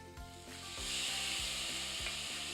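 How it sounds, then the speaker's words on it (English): Pork pieces hit very hot oil and sizzle, a bright hissing frying sound that swells and holds steady, with faint rhythmic scraping taps of stirring underneath, close and quiet, with no talking. "You can hear that sizzle. Means my oil is hot enough"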